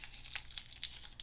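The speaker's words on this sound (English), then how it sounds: "I cut pieces of foil, I crumple it around my shape," Aluminium foil being crumpled around a sculpture skeleton gives close, quiet, continuous crinkling with a few sharper crackles throughout.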